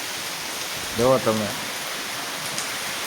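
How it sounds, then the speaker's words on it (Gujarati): Heavy rain pours down steadily on a village, a dense close hiss that lasts throughout while a voice briefly speaks over it. "વરસાદ અનરાધાર ચાલુ છે"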